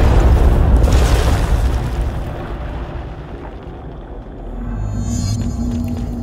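A deep, loud explosion triggered from a control panel in the video game Control, booming heavily at first and then rumbling away into a lingering low roar.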